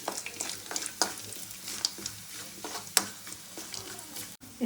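Garlic, cumin, mustard seeds and curry leaves temper in hot oil for puliyogare, a faint, close crackle of scattered pops and sizzles with occasional stirring scrapes.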